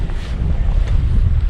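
Wind gusting across open water on a Highland trout loch during fly fishing: a loud, close, continuous rumbling buffet of air against the microphone, with no talk.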